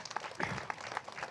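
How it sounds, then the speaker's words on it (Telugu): An audience at a meditation gathering claps briefly, a short burst of scattered hand claps at moderate distance. "గట్టిగా చప్పట్లు కొడదాం జనగామ జిల్లాకి"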